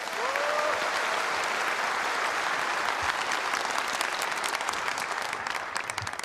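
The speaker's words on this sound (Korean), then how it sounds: "모든 출연진분들께 다시 한번 큰 박수를 부탁드립니다" Audience applause for performers at a Korean Liberation Day ceremony, a dense, steady wash of many hands clapping that fills the hall evenly and holds at a consistent loudness throughout, with no voices over it.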